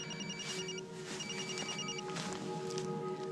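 A telephone rings in repeated electronic bursts, loud and steady, in a dramatic indoor scene, with a soft rushing noise beneath the rings.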